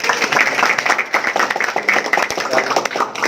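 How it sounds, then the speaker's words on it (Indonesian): A crowd applauds with a dense burst of clapping that carries on steadily for a few seconds. "Tepuk tangan dulu untuk Glance."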